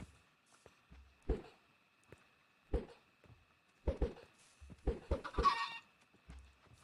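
Chicken clucks in a Minecraft-style video game come in short, irregular bursts with quiet gaps between them, some calls rising into louder squawks.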